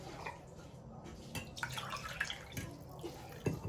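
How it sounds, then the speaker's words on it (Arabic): Water being poured from a glass into pancake batter in a bowl, a soft, faint trickle with a few light drips and splashes, heard alone at low level. "وغنضيف الماء، غنضيف الكاس الاول"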